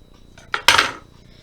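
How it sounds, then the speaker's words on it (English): Scissors snip through a small piece of sticky tape during a paper craft project: a couple of short, crisp cuts close by, with a quiet room around them. "If you have to, cut it with your scissors."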